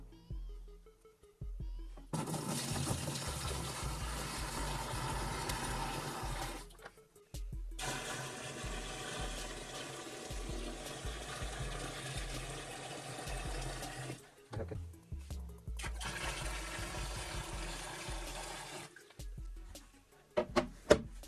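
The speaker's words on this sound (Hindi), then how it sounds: "सबसे पहले हम इसके ढक्कन को खोल लेते हैं और इसमें पानी को भर लेते हैं" Water being poured into a homemade air cooler built from a plastic drum: a steady rushing splash that runs in three long bursts separated by brief pauses, close and fairly loud.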